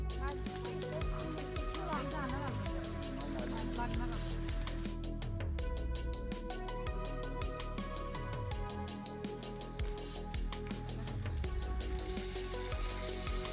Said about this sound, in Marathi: आता मी हा कांदा टाकलेला आहे तेलामध्ये